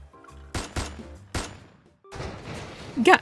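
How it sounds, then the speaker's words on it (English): Several gunshots ring out in the video game Love and Deepspace, three sharp loud cracks in quick succession followed by a denser burst of noisy impacts, over a low game music backdrop. "Suddenly, several gunshots ring out, piercing my eardrums."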